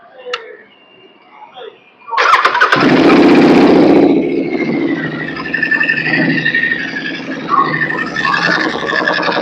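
Royal Enfield Continental GT Cup motorcycle with open pipes, cranking and firing up after a moment of quiet talk, then settling into a loud, close, uneven idle with throaty blips of the throttle.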